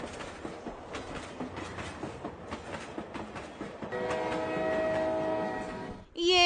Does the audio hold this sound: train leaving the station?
yes